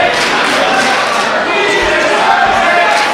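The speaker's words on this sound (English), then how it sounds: "Crowd chanting he deserved it." A crowd at an Inter Species Wrestling show chants and roars in a dense, loud, sustained mass of voices with rhythmic swells.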